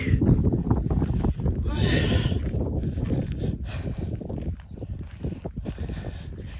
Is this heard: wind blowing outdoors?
yes